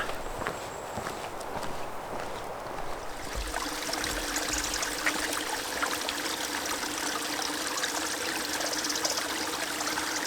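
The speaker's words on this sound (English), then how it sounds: "I'm moving to that stream" A mountain stream in the Czech mountains flows with a steady rushing and trickling wash that grows louder as it is approached. Footsteps crunch along the trail in the first seconds.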